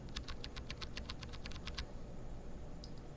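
Typing on a mechanical keyboard fitted with Duroc switches, a quick run of soft, muted key clicks up close that stops after under two seconds, leaving quiet room tone.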